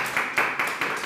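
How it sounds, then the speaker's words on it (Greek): Audience applause at a Greek televised music show, a brief burst of rhythmic clapping from a small crowd, moderately loud and close, with no talk over it. "Μεγάλο χειροκρότημα."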